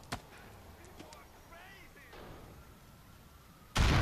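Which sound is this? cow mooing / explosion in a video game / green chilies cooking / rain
explosion in a video game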